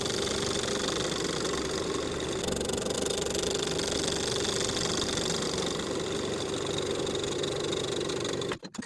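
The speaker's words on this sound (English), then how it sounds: "Sew the under collar to its seam allowance underneath with a 1/16 seam" Sewing machine stitching the under collar of a linen button-front shirt to its seam allowance, a steady close motor whir and needle chatter running continuously without talk, cutting off abruptly at the end.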